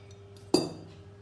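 Cylinder going into the receiver while an IOF .22 revolver is assembled, making one bright metallic clink with a short ringing tail, close up against faint background hum.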